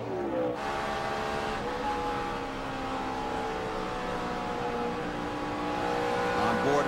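Tony Stewart's NASCAR race car at Texas Motor Speedway, heard on board in 2006, gives a steady high-pitched engine whine with slowly shifting pitch over a constant rushing drone.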